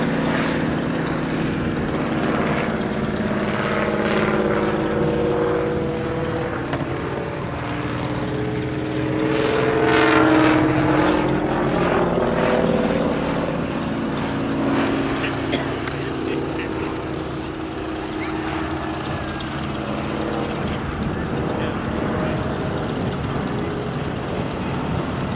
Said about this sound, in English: In terms of the third aircraft in this slot, the Hawker Nimrod 1.